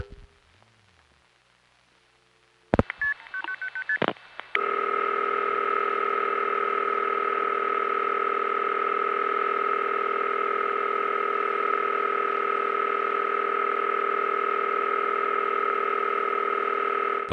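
After a few clicks, a telephone line on the new 981 office code in Ronkonkoma, Long Island, gives a steady, unbroken ringing tone that holds at an even level to the end.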